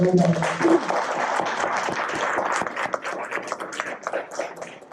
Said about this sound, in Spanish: yo pido un aplauso a la doctora que nos envió